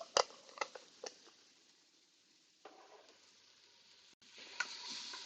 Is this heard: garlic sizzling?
yes